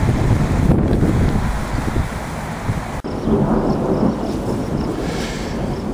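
Thunderstorm over mountains near Raton, New Mexico, heard from a motel balcony: a continuous broad roar of rain and wind with low rumbling thunder, loud and close, buffeting the microphone, with a sharp crack near the middle.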